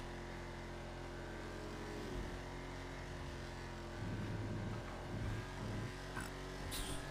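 A Lamborghini Aventador with an aftermarket exhaust drones in a racing video game, a faint, steady low engine hum with a few brief swells as the throttle changes, with no talking.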